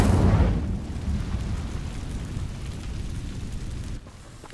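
An Incendio fire spell in Hogwarts Legacy erupts as a loud, whooshing burst of flame that settles into a rough, rumbling roar, then cuts down sharply near the end.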